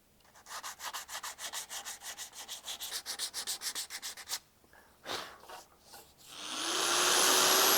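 A wooden peg plugged into a hole in a wooden lamp base is sanded back by hand, with rapid rhythmic rubbing strokes up close. A few scrapes follow before a steady whooshing, vacuum-like noise swells in at the end.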